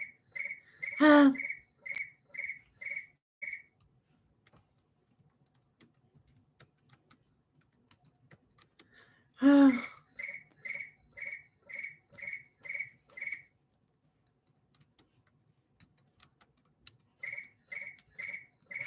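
A mobile phone ringtone chirps in quick bursts of bright electronic pulses, repeating in three clear ringing cycles with short pauses between, close and fairly loud, with no talking over it.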